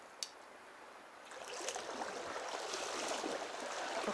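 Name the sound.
flowing river current while trout fishing in Wisconsin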